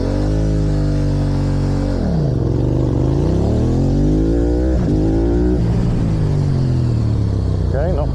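A Yamaha R7 sport motorcycle revs up close during race-start launch practice, climbing in pitch, dropping as it pulls away, then revving again in repeated surges. A rider speaks briefly over the engine.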